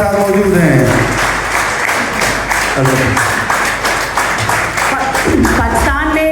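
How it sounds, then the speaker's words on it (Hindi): Audience applause at a Yoga Day gathering welcomes a guest: a dense, sustained clatter of many hands under loud music and voices throughout. "भरपूर तालियां,"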